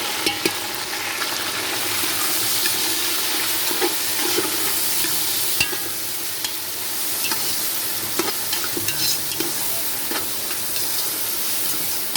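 Meat being stirred into pansit noodles frying in a pan, with a steady loud sizzle and hiss and occasional scraping stir sounds, no talking.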